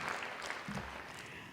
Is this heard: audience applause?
yes